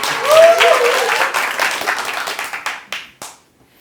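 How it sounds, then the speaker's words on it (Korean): An audience applauds to welcome a speaker onto the stage at a youth speech contest, a loud burst of clapping that thins into a few scattered claps and stops. "큰 박수로 무대 위로 모시겠습니다."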